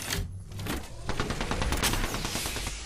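Heavy gunfire in the Apex Legends battle royale shooter strikes the player: dense, rapid volleys of shots crackle close and loud, nearly continuous across the whole stretch with no talking.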